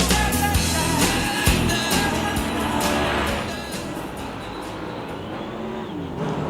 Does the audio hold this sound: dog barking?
no